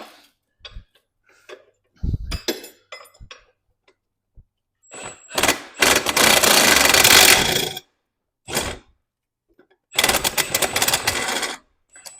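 Ratcheting wrench loosening bolts on a tractor being switched over for summer: several separate bursts of quick metallic clicking, the longest running a couple of seconds, with short quiet gaps between them. No speech.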